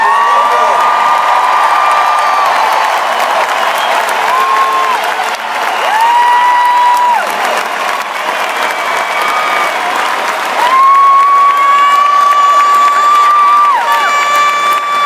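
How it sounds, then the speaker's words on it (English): Loud, sustained applause and cheering from a large crowd at Penn State's THON dance marathon after a speech, with continuous clapping under high whoops and shrieks rising and falling for about fifteen seconds. "Give a big round of applause for Jay Paterno, please."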